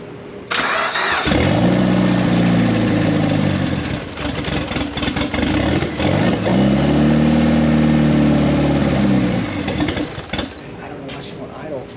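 A car engine that has sat for almost 10 years cranks and catches, then revs up and down in two long surges before settling. The engine is loud and close, with some talk around it.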